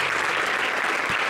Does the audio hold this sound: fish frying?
no